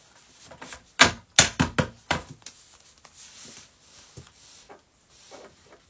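Playing cards shuffled by hand, a burst of sharp riffling clicks and slaps clustered in the first few seconds, then softer scattered rustles as the deck settles, close and alone without talk.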